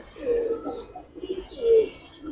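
Giribaz silver-coloring pigeons coo in two soft, low rounded phrases, close and fairly quiet, with a faint hiss in the background.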